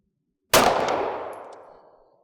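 A single sharp pistol shot from a Canik handgun fitted with a Freedomsmith trigger, a loud abrupt crack with a ringing tail that decays over more than a second and a half outdoors.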